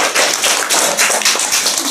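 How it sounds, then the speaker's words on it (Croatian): An audience applauds a student at a school reading-diary award event, with dense, steady clapping from a crowd in a room and no voices over it. "Veliki aplauz za njega."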